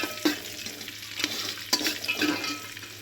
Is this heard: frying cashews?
yes